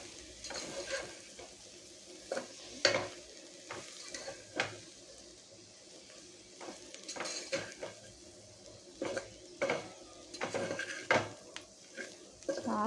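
Grated coconut frying on a medium flame for a beans gravy curry, a faint low sizzle under intermittent scraping and clinking of a spoon against the pan as it is stirred.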